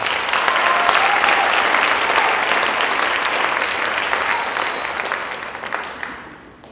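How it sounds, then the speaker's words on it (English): Warm, sustained audience applause for Miss Lee at a Sandstone school winter concert, dense clapping from a large crowd that holds steady for several seconds and then tapers off at the end. "So round of applause for Miss Lee."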